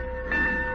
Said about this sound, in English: the tolling bell.